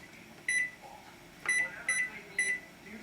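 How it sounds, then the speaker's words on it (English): A kitchen timer beeps in short bursts, four beeps spaced unevenly over a few seconds, sharp and fairly close in a quiet kitchen with soft background noise. "I'm going to set my timer for a half hour"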